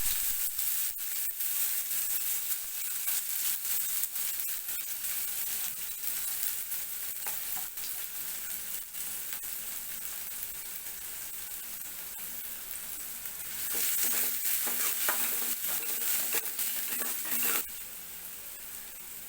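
Chopped onions fry in a pan of hot oil for an aloo paneer samosa stuffing, giving a steady close hiss throughout with stirring scrapes, and the sizzle swells louder for a few seconds near the end.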